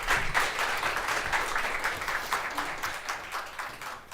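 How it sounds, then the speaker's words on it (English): A studio audience claps and applauds steadily at the close of a talk show segment, the dense clapping fading slightly toward the end. "let's hear it one more time for Dyana."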